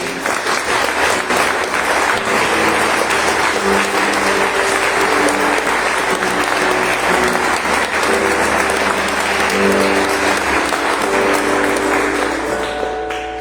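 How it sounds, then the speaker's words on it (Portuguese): A church congregation applauds together during a Christian worship service: dense, sustained clapping from many people fills the space, loud and continuous from start to finish, with no talk over it. "Você pode dar um aplauso ao Senhor?"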